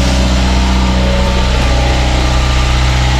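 A sailboat's diesel engine runs steadily on board, a low, even rumble and drone with no change in pace, heard alone and close for the whole stretch.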